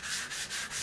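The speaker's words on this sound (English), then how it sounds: "Just to take out some of the sand marks." Sandpaper rubbing over the roof rail moulding of a BMW E46 M3, a close, steady rasp repeating in three quick even strokes.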